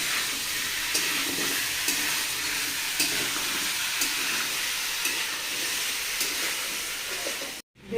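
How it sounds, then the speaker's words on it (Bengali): Chicken pieces frying in oil with turmeric and chili powder sizzle in a pan with a steady hiss, punctuated by periodic stirring scrapes, close and moderately loud, before a brief cut near the end. "হলুদ গুঁড়ো লঙ্কা গুঁড়ো দিয়ে আমি চিকেনটা একটু ভেজে নিই"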